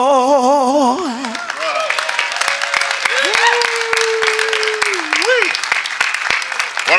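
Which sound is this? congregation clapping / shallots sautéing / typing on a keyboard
congregation clapping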